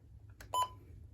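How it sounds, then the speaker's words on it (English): Button beeps from a Midland WR120 weather radio, a pair of short, faint electronic tones close together, heard alone over a quiet background. "Button beeps, which is what you're hearing right now."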